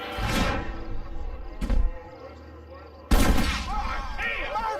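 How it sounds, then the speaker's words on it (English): Gunfire in the video game Red Dead Redemption: three sharp, loud blasts ring out about a second or more apart, each trailing into a short echo, with some voice and background sound between them. "Marvelous shot, dear boy!"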